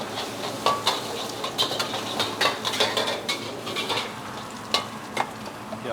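Curry fried rice with garlic is stir-fried in a busy Indonesian restaurant kitchen, a steady sizzle under repeated scraping and clanking of a spatula against the wok, with no voices.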